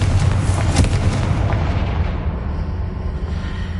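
Confringo blasting curse in the video game Hogwarts Legacy: a loud, booming explosion with a heavy rumbling tail that slowly fades over a few seconds.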